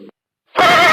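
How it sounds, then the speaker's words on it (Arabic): A zebra gives a loud, close, horse-like whinnying call that bursts in sharply and carries on to the end, heard alone. "zebra,"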